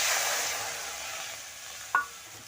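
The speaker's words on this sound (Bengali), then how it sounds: "আমি কড়াই বসিয়ে দিয়েছি আর এক বাটি জল আমি দিয়ে দিচ্ছি" A bowl of water poured into a hot wok on the stove gives a loud, broad hiss that slowly fades over about two seconds, with one short sharp crackle near the end and no voices.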